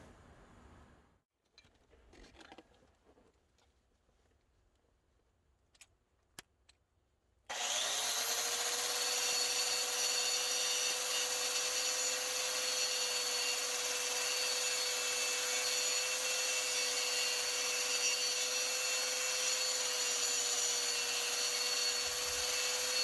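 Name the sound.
DeWalt power tool shaping antler tools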